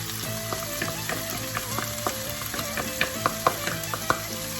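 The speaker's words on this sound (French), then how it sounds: "On mélange." Parsley is stirred into a shakshuka sizzling in the pan, with a continuous loud frying hiss and a steady series of scraping utensil strokes, no voices.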